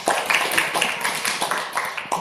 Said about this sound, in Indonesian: Tepuk tangan buat Bu Sher.